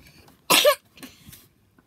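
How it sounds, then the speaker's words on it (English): A single sharp cough bursts out close and loud, followed by a couple of softer, fainter breathy sounds, with no talking. "Oh, sorry, I coughed myself."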